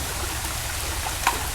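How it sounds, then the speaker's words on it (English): Creek water flows in a steady, even wash while someone wades across on foot, a constant moderate rush with no voices. "Crossing the creek with Sean."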